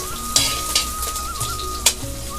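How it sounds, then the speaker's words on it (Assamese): Onions frying in oil in a pan for an Assamese-style pork curry, a steady close sizzle with a few sharp spatula or stirring clacks cutting through. "পিঁয়াজখিনি ভাজি লৈছোঁ।"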